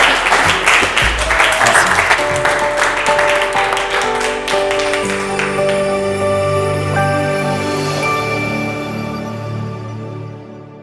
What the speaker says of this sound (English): Let's give a round of applause to Carlos.